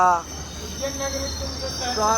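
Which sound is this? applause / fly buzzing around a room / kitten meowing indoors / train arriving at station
train arriving at station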